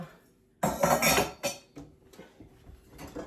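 Dishes and cutlery are handled and put away in a home kitchen cupboard, with a sharp burst of clattering followed by several lighter clinks and knocks, close and fairly quiet with pauses between them.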